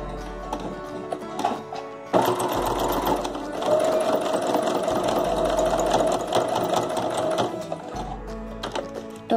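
A sewing machine stitches fabric for a boutique-style dupatta in rapid, continuous mechanical chatter, starting and stopping in short bursts, loud and close, with a voice talking over parts of it.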